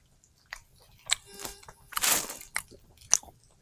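Someone bites into tender BBQ chicken and chews, giving a few soft, close crunches and moist squishy bites spread unevenly over a few seconds in a quiet room.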